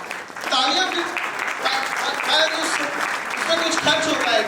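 An audience applauds at a talk, a dense, steady patter of clapping hands lasting several seconds at moderate loudness.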